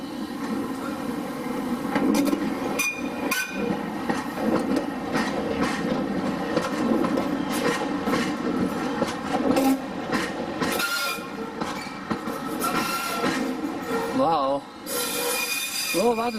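A train passes on a railway, its steady rumble and wheel clatter running throughout with squeals near the end, while people talk over it.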